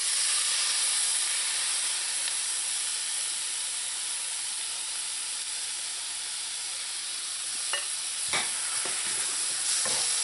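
Tomatoes added to a frying pan with smoked herring give a loud, continuous sizzle and steamy hiss, with a few utensil scrapes near the end as they are mixed in.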